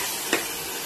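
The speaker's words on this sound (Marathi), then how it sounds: "मसाला हलवून आता व्यवस्थित एकजीव असा करून घेऊया" Masala for a stuffed brinjal dish fries in a pan with a steady, soft sizzle, and a single short scrape of stirring stands out briefly. Nobody speaks.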